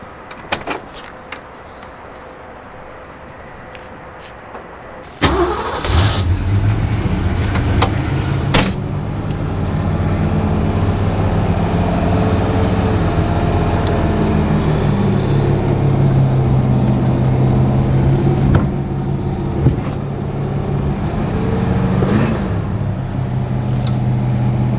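A 1964 Mercury Cyclone with a 289 V8 engine: a few clunks of a car door closing, then the engine starts and runs in a steady loud rumble as the car pulls away, with occasional knocks.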